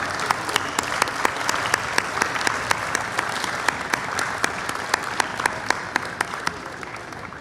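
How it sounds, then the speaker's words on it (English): A large crowd applauds continuously, dense clapping with sharp individual claps standing out, steady and sustained throughout, at an award presentation during the World Culture Festival. "Let's give one more big round of applause for all the 4 award winners"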